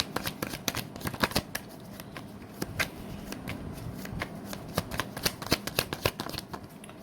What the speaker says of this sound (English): Let's pull three cards for what's happening with you.